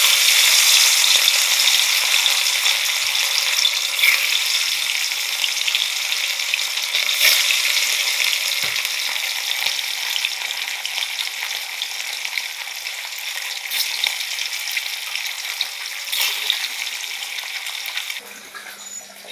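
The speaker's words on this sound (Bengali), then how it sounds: "এই যে দেখুন মাছ ভাজা হচ্ছে" Pieces of rohu fish fry in hot oil, a loud, continuous crackling sizzle with scattered pops that gradually softens over about twenty seconds, close and without talk.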